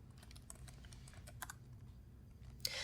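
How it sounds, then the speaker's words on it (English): Typing on a computer keyboard at a Windows command prompt, a quick, faint patter of key clicks close by over a low hum, ending in a brief louder tap, with no talking. "we can type in notepad.exe to create a new process for the Notepad program."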